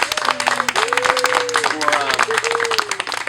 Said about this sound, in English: a round of applause to all of the zoo employees